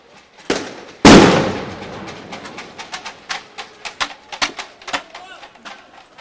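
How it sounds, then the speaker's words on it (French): Stun grenades going off during a street protest in Montreal, with police firing grenades and tear gas: a sharp blast near the start, a louder close bang, then a ragged run of smaller pops and cracks that fade out. "They just shot stun grenades and tear gas."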